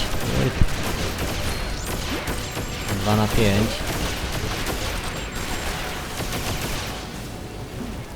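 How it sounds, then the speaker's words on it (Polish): Rapid bursts of gunfire from LEGO Batman: The Video Game rattle on continuously under someone talking, with scattered shots and a few louder bursts throughout. "Tylko strzały wszędzie słychać."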